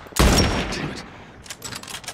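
A sniper rifle fired in the video game The Last of Us, one loud sharp blast with a booming tail that fades, followed by fainter lighter game sounds.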